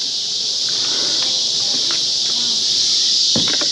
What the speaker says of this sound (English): it's so loud here because you got these cicadas just going crazy